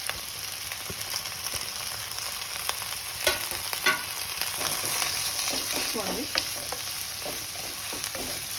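Garam masala, onions, green chillies and curry leaves frying in hot oil for a prawn and egg curry, a steady close sizzle with occasional stirring scrapes and pops throughout.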